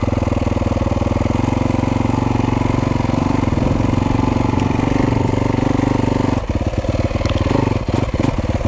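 A 2014 Yamaha YZ 250F dirt bike fitted with a Rekluse clutch runs steadily in second gear, its loud, close four-stroke engine holding a continuous throbbing note before dipping briefly and picking back up near the end.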